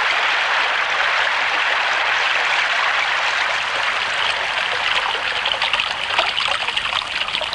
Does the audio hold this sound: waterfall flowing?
yes